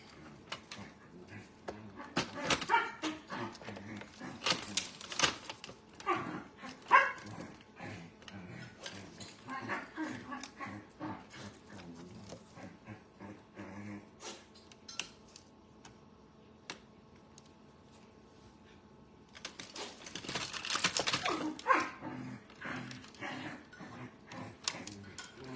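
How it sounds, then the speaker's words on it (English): Dogs playing and squabbling in the background, with irregular bursts of barking and scuffling scattered across a long stretch of indoor clatter and tapping. "Y'all hear my dogs arguing in the background? They're just playing."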